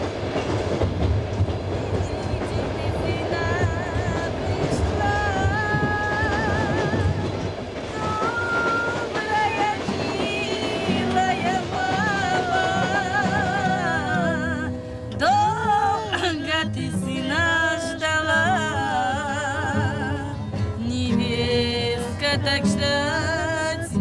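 The Rossiya passenger train runs across Russia. Loud, steady rumbling and clickety-clack of wheels on the rails continue throughout, with occasional squeals and tonal whines from the wheels in the later part.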